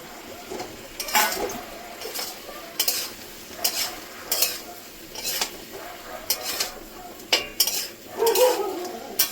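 Potatoes and small fish stirred into a frying pan for a Bengali small-fish chorchori with kharkol leaves, clinking and scraping of a utensil in irregular strokes over a soft, steady oil sizzle, close and moderately loud.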